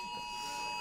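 A fire alarm sounds inside a conference room during a legal workshop, a steady electronic tone held throughout at a fairly loud, even level, with faint room noise beneath.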